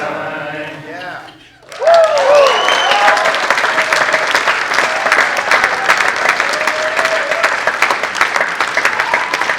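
An audience at a poetry reading bursts into applause after a brief sung passage, the clapping rising sharply and holding dense and loud, with a few voices calling out over it.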